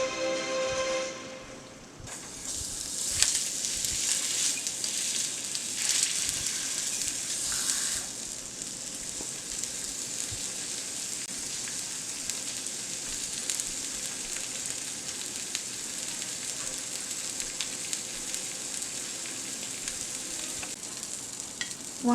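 Fish sizzles as it goes into a hot pan of browning butter, a steady, loud frying hiss that holds evenly after a brief quiet start, with occasional stirring clicks.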